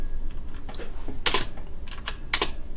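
Keys clatter on a QWERTY computer keyboard in short, uneven bursts of close, crisp clicks, with no voice.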